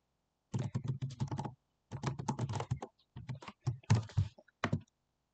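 Close, quiet typing on a computer keyboard comes in two bursts of rapid key clicks with short pauses between, then a few isolated taps near the end, against an otherwise silent background.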